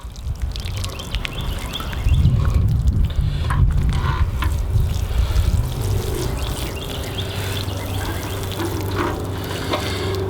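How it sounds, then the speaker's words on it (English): Water poured over freshly planted Olympia spinach transplants in garden soil, a steady trickling and splashing that runs for about ten seconds, heaviest in the first half. "you want to make sure you just water them in real well."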